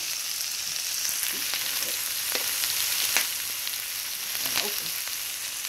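Meat and vegetables for a Philly cheesesteak lasagna sizzling in a frying pan on the stove, a constant close hiss with occasional crackles and pops, no talking.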